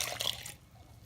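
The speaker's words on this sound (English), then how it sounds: "350 ml of water mixed with yeast. It's just bubbling there, ready to go in." Yeast-and-water mixture poured into a well of flour for pizza dough, a brief close liquid splash and trickle that fades to quiet after half a second.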